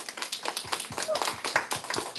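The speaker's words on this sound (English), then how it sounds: "Can we get another round of applause?" Audience at an expo clapping, a brisk run of claps with some talk mixed in, fairly close and steady.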